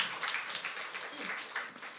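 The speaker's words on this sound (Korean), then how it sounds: "우리 하나님께 영광의 박수 올려드립시다." A church congregation applauds during a Sunday service, a steady wash of mixed clapping at moderate level lasting about two seconds, with voices faintly audible underneath.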